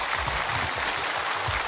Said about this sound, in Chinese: 掌声有请第三组选手登场